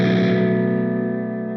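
Electric guitar played through a Fuzz Face-style fuzz pedal with the volume knob at full, a single thick distorted chord struck hard and left ringing, slowly decaying with rich sustained harmonics.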